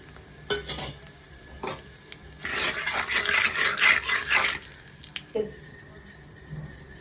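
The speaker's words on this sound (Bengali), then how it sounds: "ফোড়নে দিচ্ছি তেজপাতা আর সামান্য পরিমাণে সাদা জিরে" Bay leaf and a little white cumin hit hot oil in a pan for tempering, sending up a steady sizzle that swells into a dense crackling spell midway, with a few sharp utensil knocks around it.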